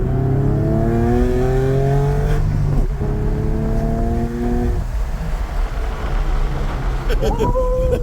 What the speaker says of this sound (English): now I know how it feels like to drive a 300 horsepower car